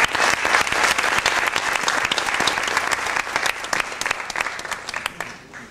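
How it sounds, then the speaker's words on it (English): An audience gives a round of applause for a doctor honoured at a religion-themed gathering: loud, sustained clapping from a large crowd, thinning slightly toward the end. "Can we not give him a round of applause?"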